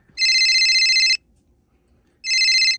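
A phone ringtone sounds in two loud, bright bursts of warbling electronic trill, each about a second long, with a near-silent pause between them.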